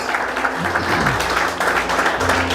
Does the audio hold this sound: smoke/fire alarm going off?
no